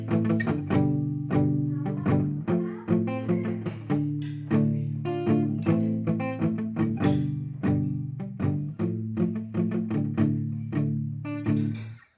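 Acoustic guitar plays the intro and verse of a song, steady strummed and picked chords ringing alone in an even rhythm, close and clear throughout.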